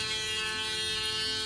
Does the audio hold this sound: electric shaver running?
yes